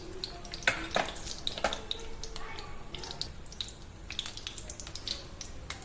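Urad dal sizzles in hot oil in a kadai, a busy crackling fizz with scattered sharp pops, close by and moderately quiet.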